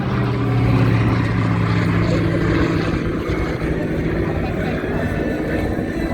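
A Lockheed Hudson, a rare airworthy vintage twin-engine aircraft, drones steadily overhead during an airshow flight display, a loud sustained propeller and piston-engine roar with faint crowd voices beneath.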